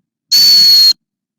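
A field hockey whistle blown with the whole hand wrapped around the barrel gives one loud, shrill, steady tone lasting about half a second, then stops abruptly into silence.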